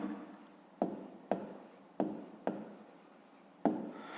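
A pen writes down the answer to a fifth-grade maths exercise, giving a series of about six short, sharp scratching strokes close up, each one fading before the next begins, with no voices.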